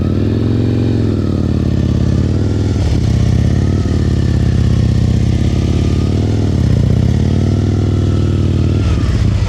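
A motorcycle crawls along during slow-speed riding drills, its engine a loud, close, steady drone with small rises and dips in revs and no voices over it.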